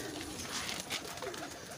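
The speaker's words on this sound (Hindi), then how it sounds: "कबूतर ही कबूतर है अंदर, भरा पड़ा है" Many pigeons coo together inside a crowded pigeon club loft, a steady, continuous murmur of soft coos that stays fairly quiet with no talk over it.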